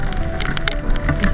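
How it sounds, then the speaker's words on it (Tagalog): Steady rain patters and hisses during a motorcycle ride, a continuous close wash of droplets with faint wind and no voices. "wala pa rin tigil yung ulan"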